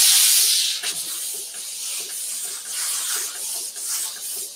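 Steam iron hissing as it presses fusible batting for a sewn zippered bag, a loud burst at first that settles into a steady, slightly pulsing hiss with faint rubbing underneath, no talking.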